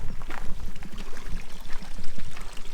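A waterfall in the mountains of Spain gives a steady, close rushing roar of falling water, unbroken and fairly loud throughout, with no voices.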